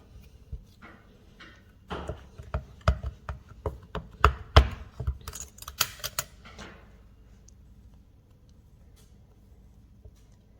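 Hard, old oven-bake polymer clay being worked and mixed by hand, giving a run of close, irregular sharp taps and clicks that bunch together for several seconds and then fade to near quiet.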